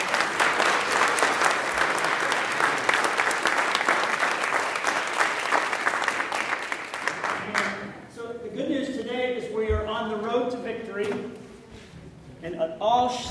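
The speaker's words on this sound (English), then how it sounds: "can we give a big round of applause to Edgar for pulling us together?" A big round of applause fills a standing gathering at an immigration reform event, dense sustained clapping for about eight seconds before it dies away and a speaker continues talking.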